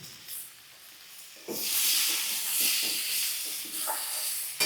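Fish and vegetables fry in a hot pan, a soft sizzle that swells into a loud, steady hiss with small crackling bursts as the food is stirred, with no speech.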